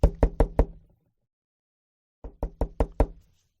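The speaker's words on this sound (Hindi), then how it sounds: "उसी समय बाहरी दरवाजे पर एक दस्तक हुई।" Knocking on an outer door: two bursts of four firm, evenly spaced raps, separated by a silent pause, close and sharp with no talking.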